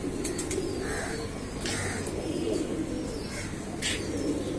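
Giribaz pigeons housed in three cages coo steadily and softly from nearby, with a continuous low murmuring rhythm and a few brief higher chirps above it. No voices are heard.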